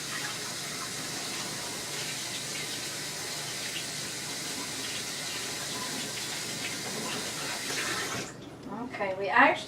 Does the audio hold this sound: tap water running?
yes